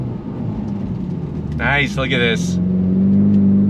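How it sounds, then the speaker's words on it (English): A 2024 Ford Mustang EcoBoost pulls away from a dead stop, its engine a steady low drone that rises in pitch toward the end, with a person's voice talking briefly over it. "Let's go on throttle from a dead stop."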